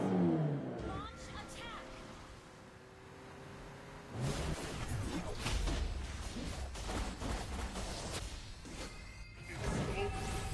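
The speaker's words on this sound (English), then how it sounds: "Hold tight! I'm stepping on the gas!" In the Mobile Legends mobile game, a car roars and accelerates amid whooshing effects, crashes and bursts of gunfire-like impacts, with loud shifting game audio and a character voice speaking over it.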